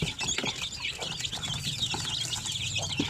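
Chicks on a small Filipino poultry farm peep in quick, high, overlapping chirps, fairly close and continuous, with some clucking fowl and farmyard sounds behind.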